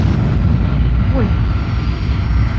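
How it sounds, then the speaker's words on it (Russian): Steady loud drone of a charter airliner's engine in a film scene, a continuous low roar filling the whole stretch with no break. "в зону действия воронки вошел самолет"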